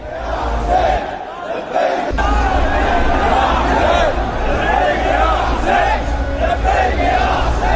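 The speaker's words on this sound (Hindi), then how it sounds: "लब्बैक या हुसैन की नारेबाजी हो रही है" A dense crowd at a funeral procession chants 'Labbaik Ya Hussain' in loud, continuous rhythmic unison, voices massed and close, with a brief dip before the chanting swells again.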